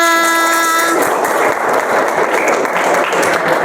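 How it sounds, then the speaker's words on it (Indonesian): A short tonal chime gives way to a burst of steady clapping from a school class of seventh graders, loud and continuous until the end. "tepuk tangan untuk kita semua."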